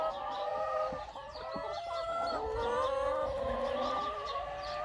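A flock of hens clucks and murmurs close by, with overlapping bursts of calls and a rooster-like crowing tone over a busy, continuous farmyard chatter.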